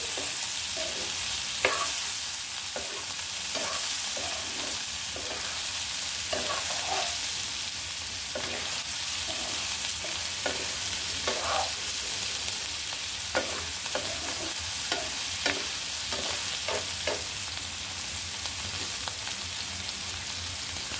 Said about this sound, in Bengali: সয়া বড়িগুলো কিন্তু আমি ভালো করে ভেজে নিয়েছি